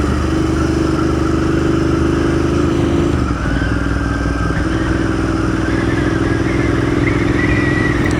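Motorcycle riding along town roads in Barre, Vermont, its mid-pitched engine droning steadily and close throughout, with a gear change or shift in revs partway and road and wind rumble underneath.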